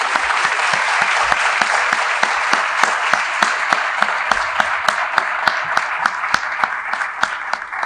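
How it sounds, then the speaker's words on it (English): Loud, sustained applause for a school social worker at a board of education meeting, a full room of hands clapping steadily with crisp individual claps standing out. "Please give a round of applause for Miss Rosemary Wallens"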